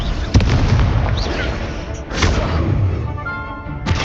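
Spell explosions from the video game Hogwarts Legacy burst loudly in quick succession, with sharp booming blasts and crackling tails, a rising shimmer between hits.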